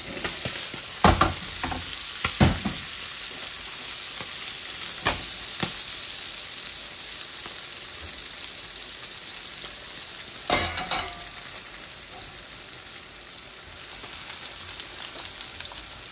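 A continuous crackling sizzle of garlic frying in hot oil, steady throughout, with a few sharp clicks and scrapes of a utensil in the pan.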